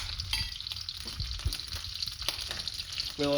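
Butter melts and bubbles in a pan for bananas Foster, a soft sizzle with scattered low knocks and scraping stirs, close and fairly quiet.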